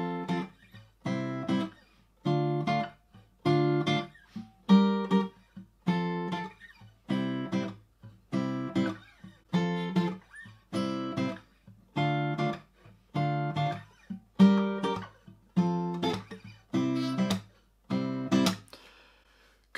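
Strummed guitar chords from a song ring out in a steady rhythm, one bright chord after another at an even tempo, with no voices.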